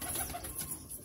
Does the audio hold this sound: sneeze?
no